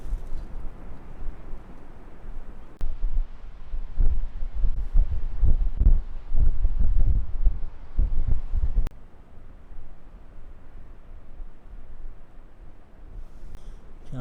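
Wind buffets a camera microphone outdoors, producing low rumbling gusts that swell loudest in the middle, then ease into a softer, steady rush.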